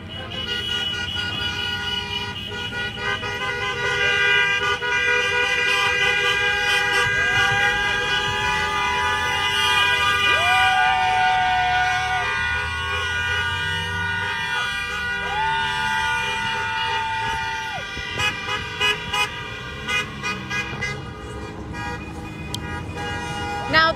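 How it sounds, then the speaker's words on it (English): Car horns honk repeatedly as vehicles drive past a street protest in west Toledo, long sustained blasts and short toots layered over steady traffic and crowd noise for the whole stretch. "it's been kind of nonstop horns honking as people are driving by"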